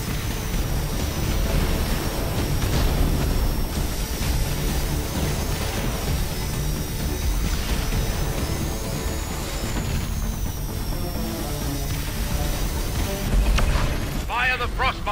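Frostbite cannon fire in the video game X-Morph rumbles as a sustained, loud, dense wash of booming low roar and explosive noise, with a sharper burst near the end.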